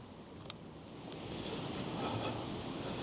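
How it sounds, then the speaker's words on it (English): Steady, rushing wind of a cold, stormy November day at a campsite buffets the microphone, a continuous broadband roar that swells slightly over a few seconds, with no voices. "it is getting legit cold and very windy out here"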